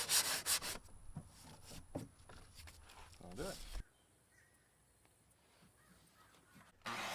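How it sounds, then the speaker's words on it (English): Sandpaper rubbing along the edges of 2x4 wood boards, a close, gritty scraping in short repeated strokes for a few seconds, then a near-quiet stretch before a last burst of rubbing. "I went ahead and used some sandpaper to make the edges of the boards a bit nicer so they fit together"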